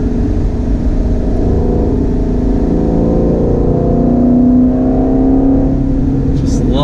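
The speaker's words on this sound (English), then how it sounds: "And the sound of the exhaust, if that doesn't make you feel good, then you're not a car person." Naturally aspirated V8 exhaust of a 2019 Ford Shelby GT350 holds a steady, loud drone that swells into a rising rev near the end, with a brief spoken voice over it.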